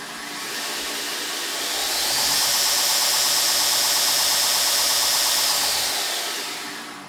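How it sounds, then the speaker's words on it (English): A 2x72 belt grinder runs in reverse, a loud, close motor-and-belt roar that builds within the first couple of seconds, holds steady, then eases off toward the end. "that's the grinder running in reverse"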